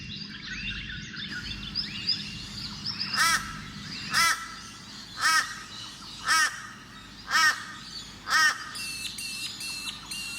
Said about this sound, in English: And just listen to those birds.